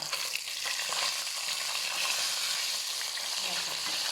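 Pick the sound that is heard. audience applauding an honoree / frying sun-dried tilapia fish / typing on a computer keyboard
frying sun-dried tilapia fish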